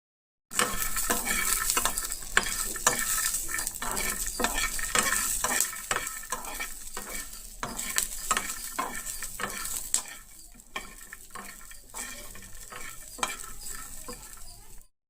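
Green chilies sizzle and fry in hot oil in a pan for peanut chutney, with steady crackling and repeated stirring scrapes and utensil clinks close by throughout.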